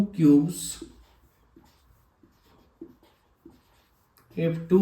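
Writing strokes on a board during a Class 10 maths lesson on surface area and volume: faint, intermittent scratchy taps spaced through a quiet middle stretch, with someone speaking briefly at the start and end.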